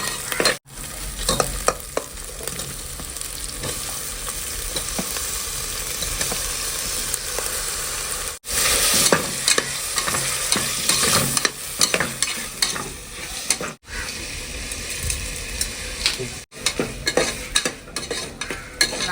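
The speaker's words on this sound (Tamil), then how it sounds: "தக்காளி நல்லா வதங்கிட்டு இருக்கு" Tomatoes with ginger and garlic sauté in a pan with a close, crackling sizzle, interrupted by frequent spoon stirring and scraping and a few brief pauses, with no talking.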